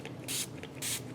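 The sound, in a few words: spraying patina activator onto wet paint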